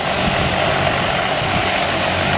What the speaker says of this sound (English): a hell of a lot of noise from this plane that is just about ready to take off with a load of skydivers